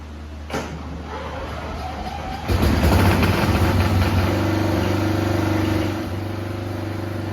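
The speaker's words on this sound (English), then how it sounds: "Okay, so I got both transmissions going forward." The powered drivetrain of a scale M4A3E2 Sherman Jumbo tank model drives both transmissions forward with a steady mechanical hum, then jumps to a louder, busier whirr partway through and eases back slightly near the end.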